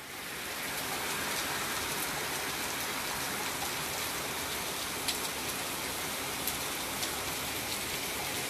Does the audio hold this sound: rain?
yes